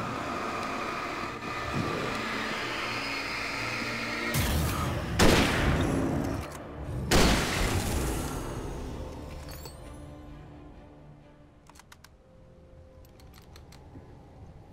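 Two powerful hunting rifle shots in the Alan Wake video game crack out about two seconds apart, each a loud, sharp boom that rings briefly over a low ambient drone before the scene quiets and a faint metallic clink follows.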